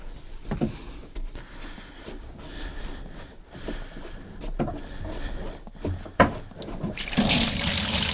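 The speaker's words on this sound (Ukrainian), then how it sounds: "І зливається вода." Water drains out of an opened plug at the bottom of a float-type cattle drinking bowl, a steady trickling gush with occasional knocks and a louder rush near the end.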